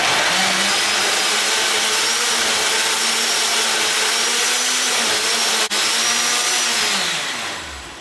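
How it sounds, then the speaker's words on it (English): An Osterizer blender liquefies raspberry pepper sauce, a loud continuous motor whir with a churning, slightly wavering pitch that holds steady, briefly dips, then winds down at the end. "all we're going to do now is, go crazy with the blender"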